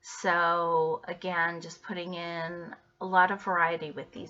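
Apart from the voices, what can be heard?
No everyday noise stands out behind the speech.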